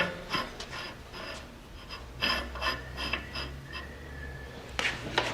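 A portable 1674 tube expander works a tube out to about 3 inch ID, giving a series of close, dry metallic rasps and clicks in uneven bursts, with no talk.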